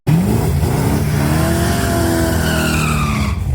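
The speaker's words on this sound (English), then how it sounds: "That's Willis Pendergrass on the bye run." A drag race car on its bye run down the strip, loud and close, with a sustained engine roar rising in pitch through the gears and a brief tire squeal at the launch, no talk over it.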